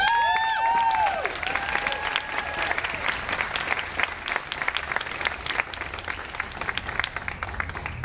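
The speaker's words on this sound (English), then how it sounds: "Mr. Bonasoli and Mr. Dupuis, can you stand up, get a round of applause, please?" A crowd at a countdown clock launch bursts into loud, sustained applause, with steady clapping continuing throughout; a few whistle-like tones cut through at the start.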